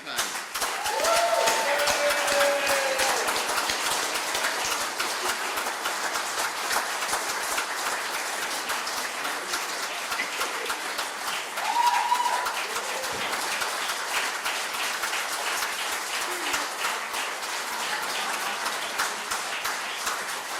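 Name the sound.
audience applauding a campaign worker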